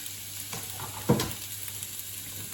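Onions drop into hot oil and fry with a soft continuous sizzle, marked by one brief clatter of stirring or the pan, close but fairly quiet over its short length.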